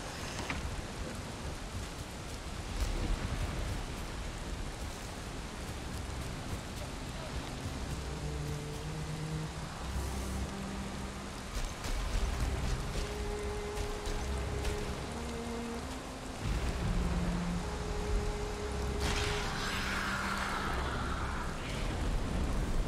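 Rain pours steadily in the video game Valheim, a dense, constant hiss over the whole stretch, with soft low musical tones drifting underneath and a brief swell of louder noise near the end.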